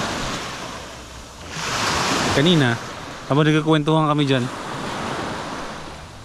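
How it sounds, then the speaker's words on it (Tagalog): Sea waves on the shore at a night beach campsite with a bonfire in Maguindanao give a broad, steady rushing wash that swells and fades, with someone talking over it partway through. "Ang sarap pakinggan ng tunog ng"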